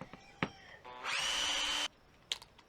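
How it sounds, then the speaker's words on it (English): A power drill driving a 1/2 inch wood bit into framing while installing a gas vent for a tankless water heater, one steady whining burst of about a second between faint clicks and handling noises. "Now this is a 1/2 inch wood drill bit, and I'm just basically going to get it in here"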